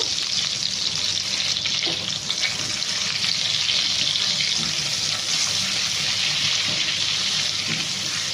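Mustard seeds and curry leaves hit hot oil for a double egg curry, giving a loud, continuous close-up sizzle, a dense unbroken hiss that holds steady throughout with no talk over it.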